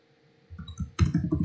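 A handful of soft, close clicks from a computer mouse, starting faintly and then coming in a quicker cluster of sharper clicks near the end, with no voice.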